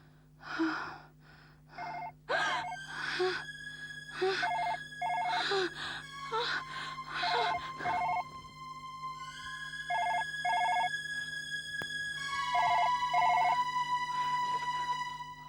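A telephone rings in a horror drama scene, sounding in repeated bright, tonal bursts over a steady low hum, clear and close throughout.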